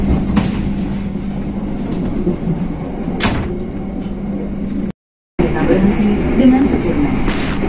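Steady rumble and clatter of the Ambarawa Express train from inside a premium carriage, leaving Bojonegoro station in Indonesia, with occasional bumps and creaks and a brief dropout partway through.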